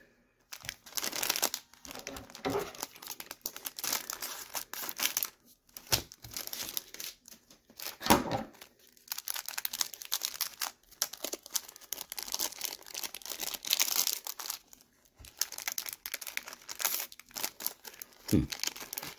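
Close crinkling and tearing of the wrapper as a pack of 1990–1991 Donruss baseball cards is cut open with scissors, in irregular bursts of rustling plastic and foil with brief pauses between.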